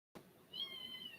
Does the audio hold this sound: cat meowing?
yes